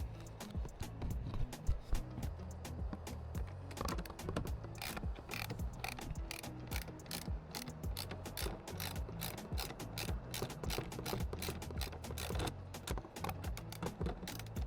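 A ratchet on a long extension loosening a seat bolt inside a 2004 Nissan Maxima, giving quick, dense runs of close metallic clicks that go on steadily for the full stretch, with no talking.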